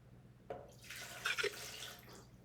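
Water pours into a pad thai sauce in a home kitchen, a faint splash and short gurgling trickle starting abruptly and fading after a couple of seconds.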